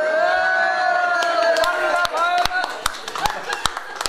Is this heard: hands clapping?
yes